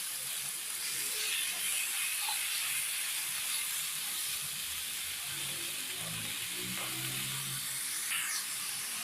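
Finely cut chicken breast fries on onions in a pan, a steady close sizzle and hiss that holds evenly throughout with no pauses.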